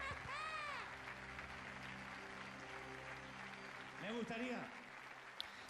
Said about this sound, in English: Give an applause to the Lord